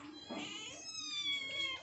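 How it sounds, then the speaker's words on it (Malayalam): A neighbour's cat meows close by in a long, drawn-out wavering cry, clear and fairly quiet, with no talk over it. "അതാണ് അപ്പുറത്തെ പൂച്ച"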